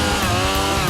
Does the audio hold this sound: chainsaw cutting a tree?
yes